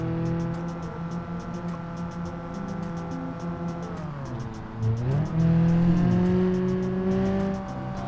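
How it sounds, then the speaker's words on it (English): An old Japanese pickup truck in BeamNG drives along with a steady engine drone, its pitch dipping and then climbing as the engine revs up louder near the end, with no voices. "Sitting here driving around in an old Japanese pickup truck"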